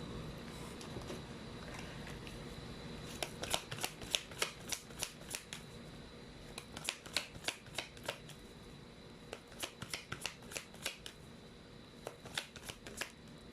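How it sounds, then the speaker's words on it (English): A deck of cards is shuffled close by in quick bursts of crisp riffling flutters, several separate shuffles over a quiet background with no talking. "Let's actually pull up another set of cards."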